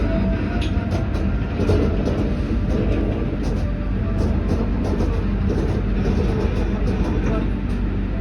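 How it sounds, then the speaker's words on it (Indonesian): Blambangan Express passenger train rolling on the rails, a continuous loud low rumble with steady clattering, heard from inside the carriage. "kereta api Belambangan Express masuk di stasiun Semarang Tawang"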